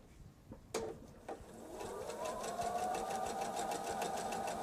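A sewing machine stitches jelly roll fabric strips, starting with a few close clicks and handling knocks, then building into a steady, fast whirring hum with an even rhythmic patter that runs to the end.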